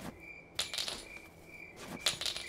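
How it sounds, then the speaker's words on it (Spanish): Keys jangling in the video game Granny 3, two quick metallic clinking bursts separated by a short pause, bright and close against a quiet ambient background. "Hice ruido con las llaves, entonces Granny vendrá al patio"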